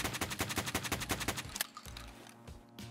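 Suppressed budget shotgun fired in Escape from Tarkov: a rapid run of about a dozen muffled, evenly spaced shots, then one louder blast followed by quieter mechanical clicks and handling noise.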